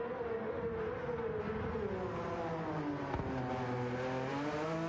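Rally car out on track during a practice session for round 4 of FTWRC, engine note rising and falling steadily through gear changes, continuous and fairly close with no talk.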